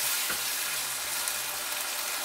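Chilies frying in a pan for pad krapao: a steady, hissing sizzle with a faint stir or clink near the start, moderately loud and continuous with no voices.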